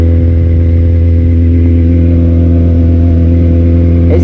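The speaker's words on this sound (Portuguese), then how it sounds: "dar um rolê de moto hoje" A motorcycle engine runs loud and steady at close range, holding a constant droning hum with no talk over it during a leisurely ride.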